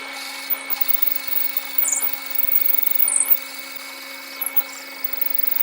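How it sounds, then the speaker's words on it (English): A steady mechanical whine runs throughout, with a few brief, slightly louder bursts as a drill press bites through the center of a pen blank held snugly in a jig. "so I could drill right through the center"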